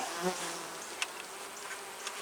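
Honeybees buzz around an open hive during an inspection, a soft, steady droning hum with a few closer wingbeats flitting past, quiet and calm with no talking.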